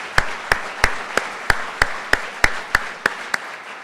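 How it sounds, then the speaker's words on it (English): Slow, evenly spaced hand claps, about a dozen sharp strikes in under four seconds, sound more like one or a few people than a full audience at a community event. "Just want to give you all an applause."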